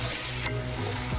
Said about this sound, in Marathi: छान मिक्स करून घेणार आहोत आपण